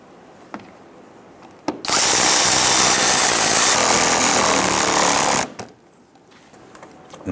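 Power drill snugging down radiator bolts on a 2011-2019 Ford Explorer, one loud, steady whirring burst of about three and a half seconds, close up, with brief clicks before and after.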